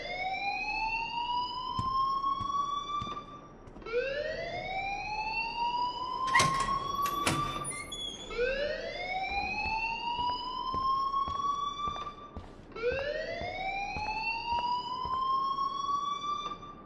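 Fire alarm in the video game Life is Strange wails in rising electronic sweeps, four long repeating tones with a couple of sharp high chirps in the middle, loud and close with no talking.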